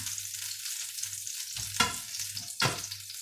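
Beef stir-fries with chestnuts, vegetables and chilies in a hot pan, giving a soft steady sizzle broken by two sharper bursts as ingredients are tossed or added.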